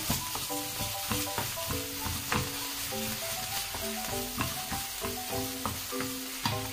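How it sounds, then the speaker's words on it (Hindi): Onions browning with ginger garlic paste in a pan, giving a steady sizzle broken by repeated scraping, stirring clinks over a low frying hiss. "थोड़ा सा इसको ब्राउन करेंगे प्याज को"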